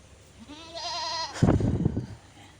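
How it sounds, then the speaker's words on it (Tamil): A goat bleats once in a long, wavering call, followed by a louder, harsher burst of bleating from goats kept for breeding; both calls are close and clear, with no talk. "நல்ல ஆடு சூப்பரான ஆடு"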